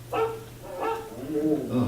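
A few short barks from a dog, three or four yaps spaced about half a second apart, close by with a low hum beneath, on the Carousel of Progress ride at Walt Disney World.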